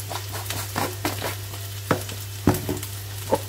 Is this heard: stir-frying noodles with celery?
yes